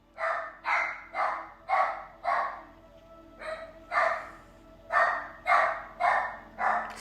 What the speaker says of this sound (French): il veut parler à Charlotte, mon autre chien, qui clairement veut pas jouer avec